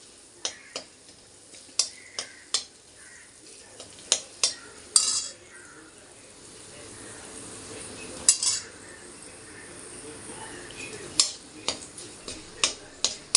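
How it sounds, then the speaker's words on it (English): Curry leaves and dry red chili are sautéed in oil in a pan, with sharp, irregular clinks of a spoon against metal over a faint sizzle, the taps coming in loose clusters. "Now saute this till the curry leaves and chili is crisp and the moisture is gone from it."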